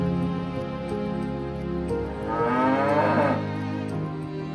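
Cattle low loudly at a busy livestock market ahead of the Eid sacrifice, with long sustained moos overlapping one another in a steady chorus and no talk.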